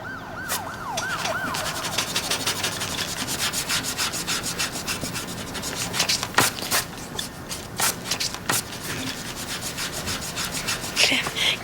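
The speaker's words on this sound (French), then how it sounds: "Ça gratte. Il y a une souris quelque part." A mouse scratching somewhere indoors gives a steady, rubbing scrape that runs throughout, with sharp scratches toward the end and a brief wavering tone near the start.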